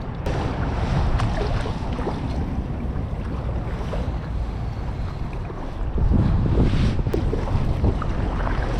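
An Advanced Elements Packlite inflatable kayak rides moving river water through Vilnius, with constant splashing and rushing flow mixed with buffeting wind on the microphone, swelling louder toward the end.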